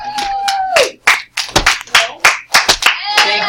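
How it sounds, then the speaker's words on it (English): Sharp, close hand claps ring out in a classroom in an irregular burst of single and double slaps, with a voice and background noise between them. "Thank you for clapping"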